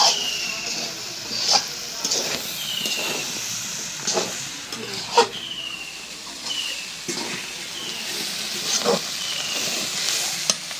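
Chickpea bhuna frying in mustard oil with chilli, turmeric, coriander and cumin powders gives a steady hiss, broken by a spoon scraping and stirring the pan roughly every second or two, with no one talking.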